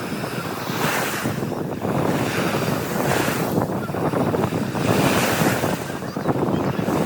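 Sea waves surge and wash continuously onto the sand at Shivrajpur beach near Dwarka, a broad roar of surf with wind buffeting the microphone and faint voices in the background.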